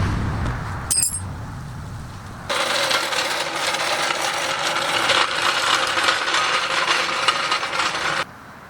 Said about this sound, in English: I could start taking off the bolts to the actual transmission itself